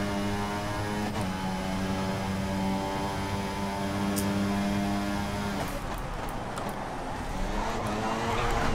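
McLaren Formula One car in the F1 2014 racing game, its engine droning steadily with a held tonal whine, then the revs flare and the engine note rises roughly as the throttle is stabbed mid-corner, loud and continuous.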